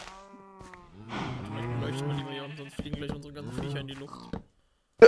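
A Minecraft cow lets out a long, drawn-out moo, with a few shorter calls that rise and fall, loud and close. After a short silence, a sharp click ends the clip.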